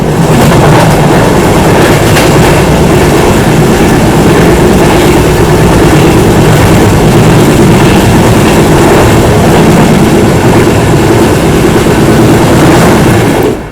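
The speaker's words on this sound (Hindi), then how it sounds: "कल्याण के पहले जो इंटरसिटी है ना, इसने हमें फिर से री-ओवरटेक कर लिया है।" An intercity passenger train overtakes on the railway, a loud, continuous roar of wheels and carriages with steady rhythmic clatter, close by and filling the whole stretch without any voices.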